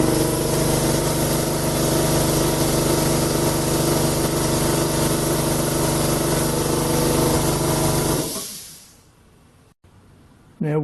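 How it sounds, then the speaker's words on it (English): A small Binks Bellows single-piston diaphragm air compressor runs with a steady buzzing, pulsing motor drone up close, then winds down and falls quiet, followed by a brief click. "Now we'll measure the little Binks Bellows single piston diaphragm unit."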